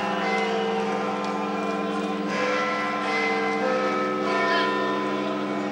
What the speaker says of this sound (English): Big Ben chimes.